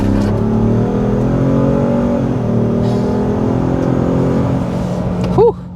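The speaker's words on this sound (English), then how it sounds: "we're going to go ahead and start with a hard acceleration." A 2024 Ford F-150 Platinum Plus hybrid pickup accelerates hard from inside the cabin, its engine drone rising steadily in pitch and loudness for several seconds, then easing, with a brief bump near the end.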